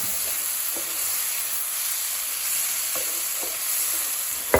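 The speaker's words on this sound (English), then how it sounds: "So already you get to smell all these peppers frying off, the onions frying off" Peppers, onions and meat fry in oil in a pan, giving a steady close sizzle and hiss with occasional soft scrapes of stirring and no talking.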